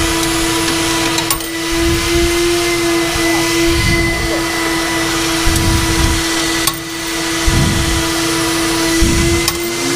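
A coin-operated vacuum sucks water off a wet seat, a loud, steady close-up whine with a constant tone and rhythmic surges as the nozzle moves, no talking.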